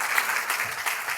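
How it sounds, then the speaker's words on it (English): A church congregation clapping during a service, a brief burst of dense, even applause from many hands. "Yeah, you can clap."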